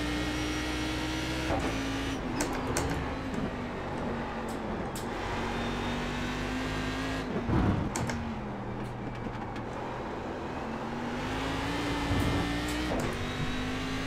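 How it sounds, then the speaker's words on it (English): A Cadillac race car at Road Atlanta holds a continuous engine drone with a steady pitch that dips and rises around gear changes. Sharp clicks and rattles punctuate it, and no one speaks. "Cadillac seems like old school car where you have to like blip and everything on downshifts"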